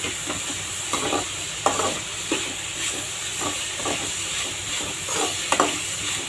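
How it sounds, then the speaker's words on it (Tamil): Onion, green chilli and curry leaves sauté in a pan with a steady sizzle and hiss, punctuated by repeated soft scrapes and stirs of a spoon at an irregular rhythm, close and moderately loud with no talking. "வெங்காயம், பச்சை மிளகாய், கருவேப்பிலை வதக்கிக்கலாம்"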